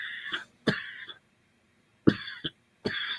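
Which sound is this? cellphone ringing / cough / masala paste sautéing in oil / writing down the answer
cough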